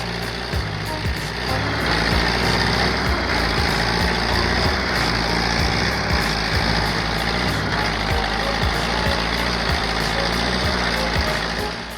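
An IMT tractor pulling long, heavy logs through deep swamp mud, its engine straining in a loud, steady labouring drone with rhythmic knocking pulses throughout, near and continuous, with no talk.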